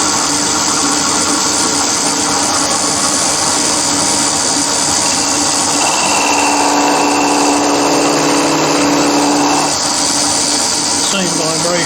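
A machine taking a cut on a rotary table, a loud continuous grinding, whirring drone with vibration, steady throughout with a slight change in tone near the end.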